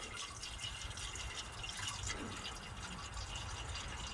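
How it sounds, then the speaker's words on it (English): Fluid poured into the engine of a 1968 Ford F100, a steady close trickle and splash of liquid running throughout without a break, with no talking. "I'm pouring that, and I'm gonna wait for it to come out down there"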